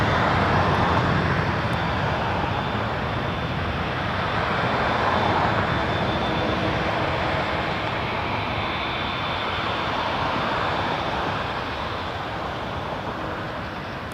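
Airliner jet engines roar steadily at Toronto Pearson Airport, a loud, broad, continuous rumble with a thin high whine that swells slightly and then eases off gradually, with no talking over it.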